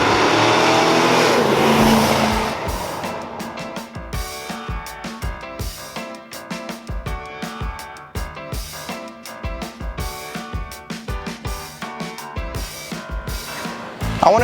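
A 1979 Dodge Li'l Red Express muscle truck drives hard, its engine roaring loudly at first, then settling into a rough, pulsing rumble with uneven bursts, as if rolling over bumpy ground; near and loud, with no talking.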